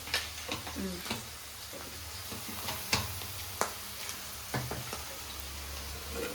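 Onions frying in a pan give a soft steady sizzle, with scattered close clicks and taps of a utensil against the pan, no voices.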